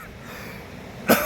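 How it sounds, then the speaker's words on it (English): A single sharp, close cough from a man with a recent cough, bursting out abruptly after a stretch of quiet outdoor ambience at sunrise in Torrevieja. "Seem to have a bit of a cough at the minute."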